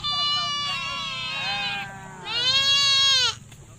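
Sheep bleating nearby, two long wavering bleats with a short pause between them, over faint outdoor background noise.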